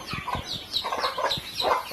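Close, lively clucking from a few chickens, a rapid series of short cackling calls with brief pauses between bursts.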